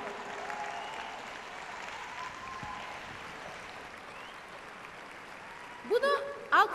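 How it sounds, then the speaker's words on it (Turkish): Audience applause in a talk setting, a continuous wash of many hands clapping at moderate distance, then a voice comes in near the end. "Bunu alkışlamak çok kolay"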